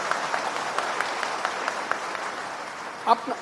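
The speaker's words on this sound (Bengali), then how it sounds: "একটা হাততালি দেন না" An audience at a political speech claps in a steady, moderately distant patter of applause, with a brief voice rising near the end.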